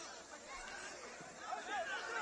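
Restless stadium crowd noise at a Caribbean club football semifinal, a low continuous chatter with faint calls rising near the end.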